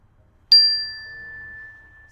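A single clear bell is struck once to cue the next pose in a children's yoga class, ringing out bright and pure before fading slowly over about two seconds in a quiet room.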